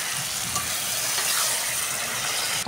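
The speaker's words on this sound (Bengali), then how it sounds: "এবার আমি এর মধ্যে জল অ্যাড করে দেবো।" Water hits fried okra in a hot pan for a shrimp curry, and a steady, loud sizzle and hiss follows, with light scraping near the end.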